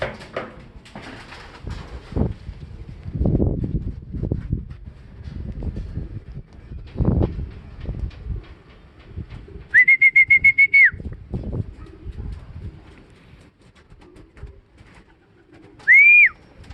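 Racing pigeons come down to a loft in bad weather, with soft irregular wing flutters and low thumps. Two sharp, piercing whistles cut through, a longer one midway and a short one near the end.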